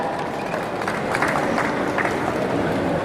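An audience at a ceremony for the 2019 Osong cosmetics and beauty industry expo claps to welcome a speaker, a dense, even patter of many hands that holds steady throughout.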